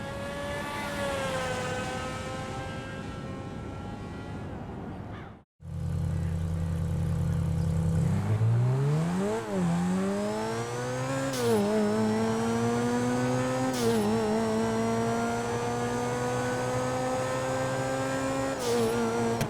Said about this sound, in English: I knew the Turismo R was loud